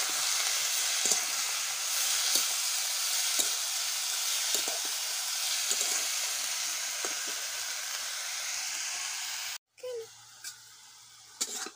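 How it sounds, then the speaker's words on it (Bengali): Onion, brinjal and dried fish fry in a hot wok with a loud, steady sizzle and occasional stirring clicks, and a short quieter stretch near the end. "আর এখন দিয়ে দিব কড়াইতে।"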